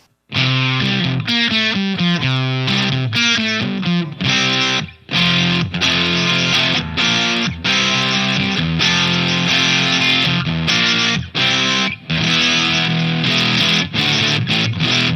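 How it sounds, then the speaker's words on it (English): Loud, heavily fuzzed electric guitar through a Voodoo Lab Octave Fuzz pedal with the fuzz near minimum plays a chunky rhythmic riff of short and sustained chords with brief gaps, with no other instruments or voices. "the fuzz is almost at minimum, and that's still a lot of distortion"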